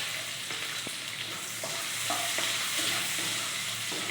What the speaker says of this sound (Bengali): পেঁয়াজটা একটু লাল লাল ভেজে নেব।